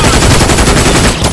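Machine gun nest firing in the video game Brink, a loud, rapid, continuous burst of close automatic gunfire filling the whole short moment.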